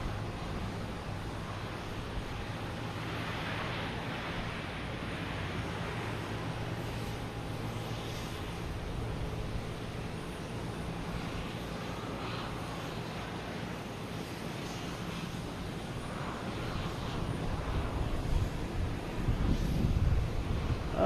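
A Philippine Airlines jet passes by at Boston Logan Airport, a steady broadband engine roar with wind noise that swells slightly louder toward the end, heard from a distance with no talk.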